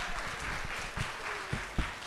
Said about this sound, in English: Let's give our guests another round of applause